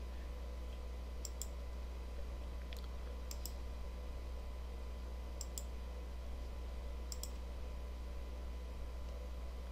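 A computer mouse gives several quick double clicks, sharp and light, scattered over a steady low hum of background noise, close by with no talking.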